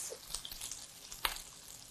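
Onions hit a hot pan of olive oil and butter with whole cumin seeds, giving a soft, steady sizzle with light clicks and stirring scrapes, faint and close, with no voices.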